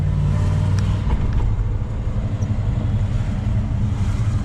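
An LS1-engined Nissan Patrol GU drives along with a steady, loud low engine drone and road rumble heard from inside the cabin, with no talking.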